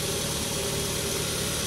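A 2010 Mazda 3i Touring's engine idles steadily with the hood open, a continuous, even hum with light vibration and no voices.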